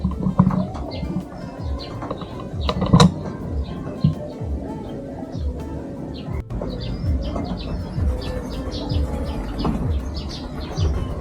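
Fancy pigeons cooing and fluttering amid outdoor bird chirps, with a few sharp clicks and soft wing flaps close by, continuing steadily throughout.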